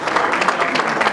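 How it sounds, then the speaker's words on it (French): A crowd at a concert-related cash presentation ceremony honoring artists' widows applauds in a brief, dense burst of steady clapping. "il faut les applaudir"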